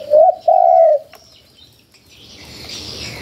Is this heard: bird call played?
yes